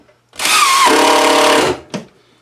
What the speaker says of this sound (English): So I just have some 3/4 inch countersink screws and put them right in here.